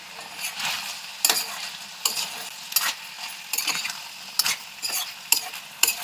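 Tamarind mixed and roasted in a spoonful of oil in a pan, with repeated sharp scrapes of a spoon against the pan over a soft, quiet sizzle.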